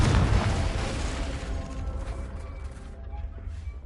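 A fiery Confringo blast spell explodes in Hogwarts Legacy, a loud booming burst right at the start that rolls off into a rumbling, crackling decay over several seconds.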